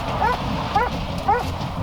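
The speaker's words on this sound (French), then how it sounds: "il aboie, c'est qu'il trouve." A police sniffer dog barks during a car search for drugs, three short, sharp barks at even intervals, close and fairly loud over background noise.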